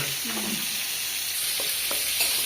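Food seasoned with turmeric and salt fries in a pan in a village kitchen, a continuous soft sizzle with a few brief clinks and scrapes, no talking over it.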